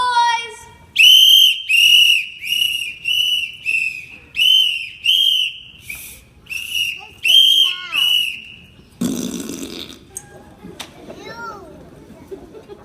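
Shrill whistles blast in a rapid run of short bursts, loud and close, followed by excited voices and shouting.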